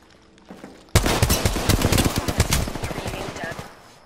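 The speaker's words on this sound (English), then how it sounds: "Taking fire." Rapid automatic gunfire from Apex Legends combat, close and loud, erupting suddenly after a quiet moment and continuing in dense bursts for several seconds, with a voice briefly heard.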